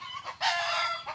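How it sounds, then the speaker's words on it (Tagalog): Chickens on a small farm, with loud rooster-like calls and clucking in a short burst that swells, holds, then trails off, close to the microphone. "Ayan ang mga manok niya."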